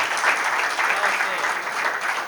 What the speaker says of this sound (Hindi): तालियां कमजोर हैं आप